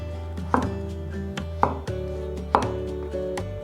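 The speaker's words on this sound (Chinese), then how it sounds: "把杏鲍菇切成圆片" A kitchen knife slices king oyster mushrooms into round pieces on a cutting board, three firm, evenly spaced chops against a steady background hum, close and clear.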